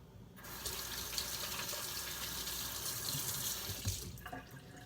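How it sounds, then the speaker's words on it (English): Hands rinsed under a running kitchen tap, the water streaming steadily into the sink for about three and a half seconds before cutting off, followed by a few faint drips and handling sounds; no talk. "Now I'm gonna rinse my hands off."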